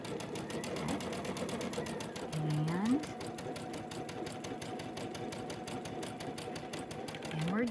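A sewing machine stitches a quilt block for a Tula Pink butterfly quilt with a rapid, steady needle chatter. It runs continuously at close range while someone talks over it.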